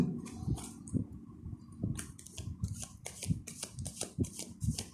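Tarot cards shuffled by hand before a reading, close and continuous riffling and slapping with frequent sharp papery bursts, no voices.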